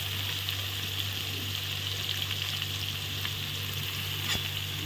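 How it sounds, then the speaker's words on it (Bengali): Onions frying in a pan for a mutton curry, a steady, even sizzle with a low hum throughout, no talk. "এই দেখো, পেঁয়াজটা এখন ভাজছি।"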